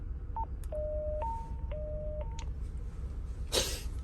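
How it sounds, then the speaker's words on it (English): A Motorola APX 7000 radio's man-down button emits an alternating two-pitch evacuation alert tone, high and low notes switching back and forth, followed by a short burst of static. "The man down button is programmed for evacuation tone"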